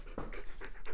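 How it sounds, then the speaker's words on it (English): Rossi the dog pants in quick, soft breaths close by, alone and faint. "excuse the dog in the background"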